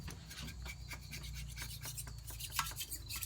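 A hand scraper rasps deposits off a Kohler 14 hp engine, with light, rapid strokes repeating steadily under a low background hum and one brighter scrape near the end.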